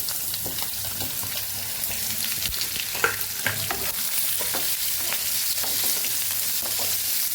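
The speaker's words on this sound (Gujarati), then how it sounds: "રાઈ જીરું સરસ ફૂટી ગયા છે પાંચ ચમચી જેટલી હિંગ ઉમેરશું ગુંદાને ઉમેરી દઈશું" Gunda, a sticky fruit, is frying in hot oil with spluttering mustard seeds, cumin and asafoetida, giving a dense, steady sizzle with crackles and pops and occasional stirring scrapes, close and continuous.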